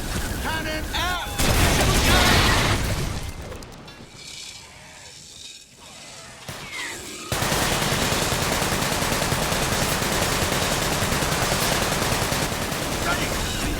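Ship cannon fire in the video game Sunset Overdrive: loud rapid bursts of gunfire and booming shots, dropping to a quieter stretch before a dense barrage resumes and runs continuously to the end.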